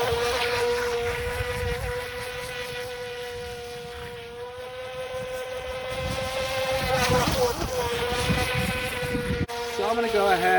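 A Haiboxing HBX X03 RC boat runs on open water, its electric motor giving a steady high whine that rises and falls in pitch as it speeds and turns, with wind noise across the microphone throughout.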